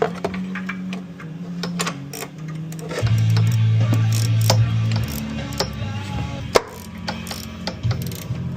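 A ratchet clicks rapidly and repeatedly while tightening a bolt on a 3.0 Duramax engine, close and loud, the mechanical ratcheting continuing in bursts across the clip.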